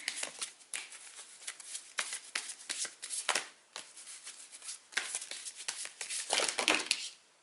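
Tarot cards shuffled in a long run of rapid, crisp riffling bursts and soft flutters, fairly close and steady with no talk.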